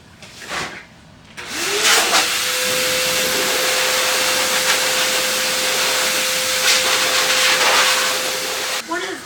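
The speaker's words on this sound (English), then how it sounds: "we give her a quick blowout with a forced air dryer and no heat" A forced-air pet dryer with no heat roars steadily for several seconds while blowing out a dog, with a broad hiss and a thin whine, starting after a short pause and cutting off at the end.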